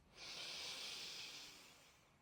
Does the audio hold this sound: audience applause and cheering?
no